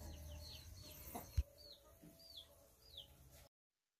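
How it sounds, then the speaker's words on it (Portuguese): Backyard laying hens cluck in a few soft, rising calls at moderate distance, with a short thump and low background noise before the sound cuts to silence. "Essa é minha criação de galinha"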